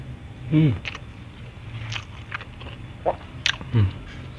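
Raw, old jengkol beans bitten and chewed up close, with several crunchy bites and wet chewing sounds spread unevenly over a few seconds, with no speech.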